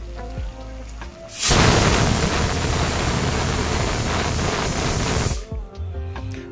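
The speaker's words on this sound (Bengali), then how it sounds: "আর ঠিক এইভাবেই 7-8টা সিটি মারবে প্রেসার কুকারে।" A pressure cooker cooking rice lets out a loud, close steam whistle burst of about four seconds, a dense rushing hiss that rises sharply and cuts off, with quieter kitchen noise before and after.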